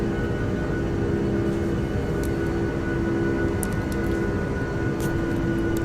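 A jet airliner's engines roar at takeoff power in Flight Simulator X at Kai Tak, a loud, steady drone with a constant tonal whine and no talk.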